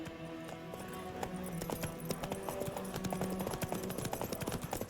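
Roach, a horse in The Witcher 3, trots with steady, close clip-clopping hooves throughout, layered over faint game ambience and brief bursts of music or voice.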